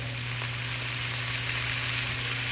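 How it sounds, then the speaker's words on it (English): Pineapple cooking in a pan with vinegar for BBQ pineapple flatbread, a loud, even, continuous sizzle with a steady low hum beneath and no talk. "my pineapple has been cooking for a couple minutes, and now I'm gonna go ahead and add in the rest of this vinegar"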